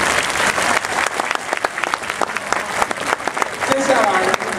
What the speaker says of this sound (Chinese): 我们也给星光三月每一位工作人员最热情的掌声